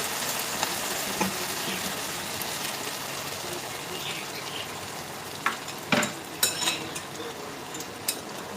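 Hot water is poured into a pan of frying fish curry masala, giving a soft continuous sizzle with a few sharp crackles and spatters near the end.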